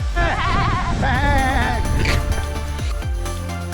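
Feral goats bleat loudly and close together in Mutawintji Gorge, with several wavering, nasal calls overlapping one another over steady outdoor background noise.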